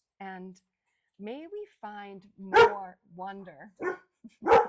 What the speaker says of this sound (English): about the excitability of my dog. I don't know whether you can hear him behind me.